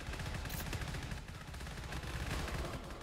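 Rapid pistol fire from a high-capacity hell pistol in the video game GTFO, a dense, continuous burst of sharp shots across three seconds, fairly quiet in the mix.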